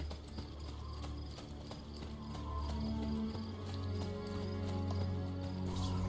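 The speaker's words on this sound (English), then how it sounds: "The horse is just following us." Horse hooves in the video game Assassin's Creed II, a rhythmic clip-clop of a horse following the player over a low droning game soundscape, moderately close and steady.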